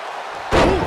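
A heavy slam impact in the wrestling video game WWE 2K24, one sudden loud thud following a quieter background of arena noise, close and punchy.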